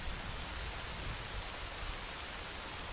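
Steady rain ambience in The Legend of Zelda: Majora's Mask, a dense, even hiss that runs unbroken and fairly loud for the whole stretch, with no voices or other events on top.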